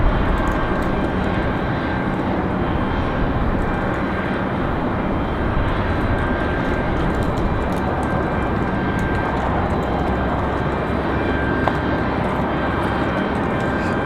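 A Lufthansa Boeing 787 touches down at Raleigh-Durham in a crosswind, its engines producing a steady, loud broadband roar that holds evenly throughout without a break.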